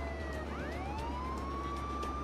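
A police car siren wails in rising and falling sweeps in the video game Contraband Police, loud and continuous over a low engine rumble, with no talking.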